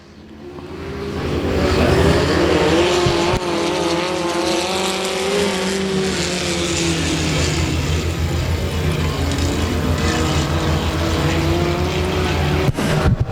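Four-cylinder rear-wheel-drive race cars in a heat race at Rose Bowl Speedway roar loudly, engines whining and rising in pitch as the pack accelerates and sweeps past, with a sharp burst near the end.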